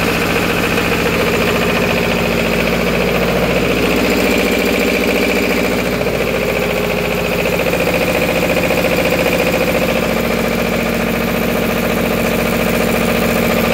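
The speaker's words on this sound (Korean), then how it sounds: "소방 제어반을 통해서 엔진을 돌려보셔요." A Healing Plus 2 fire pump engine, fresh from a starter motor replacement, runs at a steady idle with a continuous mechanical drone and vibration, loud and close, with no voices.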